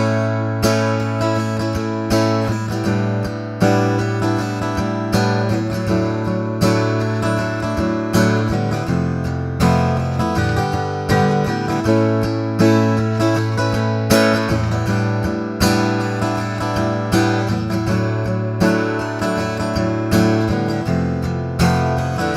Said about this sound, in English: The next one you're going to hear is the Cole Clark system.